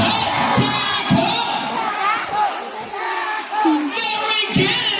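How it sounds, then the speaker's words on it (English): A crowd of children cheers and shouts loudly at an Ocean Park show, with rhythmic bursts of chanting rising and falling across a few seconds. "Come on, girls, let me hear a cheer."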